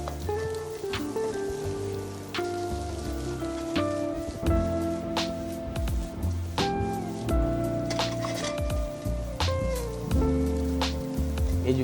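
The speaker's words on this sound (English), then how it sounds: "followed by salt to taste, turmeric powder, and saute until the mushroom becomes soft." Mushrooms sauteing in a pan with salt and turmeric powder give a steady sizzle with crackles and soft stirring scrapes throughout, no talk.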